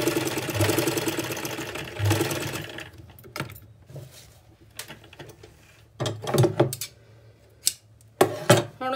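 A sewing machine stitches a plazo in a steady run at first, then stops and restarts in short bursts with soft handling noises between them.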